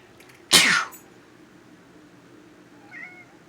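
A person gives one loud, sharp sneeze nearby, followed after a pause of a couple of seconds by a short, quiet meow from a cat in an indoor room.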